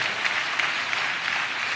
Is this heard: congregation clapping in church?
yes